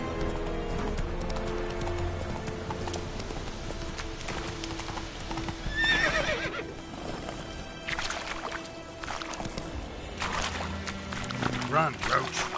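A horse gallops in The Witcher video game, fast rhythmic hoofbeats with snorts and occasional whinnies over game sounds, while someone speaks briefly.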